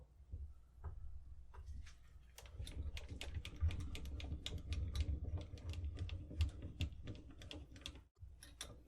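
A lathe runs with a low, steady rumble while a bearing tool presses and folds over the rim of a 50-110 brass case being swaged to 11mm Mauser, giving off a rapid, irregular ticking close by; no one speaks.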